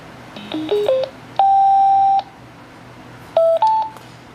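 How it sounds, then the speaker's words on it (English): A MobilitySound BTX 600 Bluetooth speaker microphone sounds its pairing tones: a quick rising run of short beeps, a long steady beep lasting most of a second, then two more short beeps, clear and close against a quiet background. "BTX 600 now is in pairing mode. Okay, you will see the device and connect it, and you will hear the beep sound."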